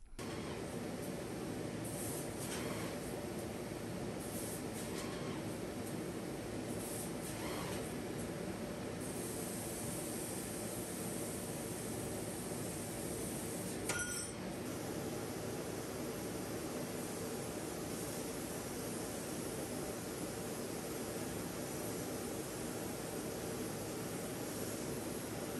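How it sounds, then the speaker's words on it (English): A home-built CO2 laser cutting machine works through sheet panels with a steady, loud broadband whoosh of fans and air running throughout, plus a few brief higher whines and a short click near the middle. "I'm gonna go ahead and cut out both top panels again since they'll fit on the same sheet."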